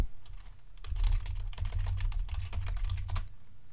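A computer keyboard is typed on close by, a steady stream of quick clicky keystrokes over a low hum, with no talking.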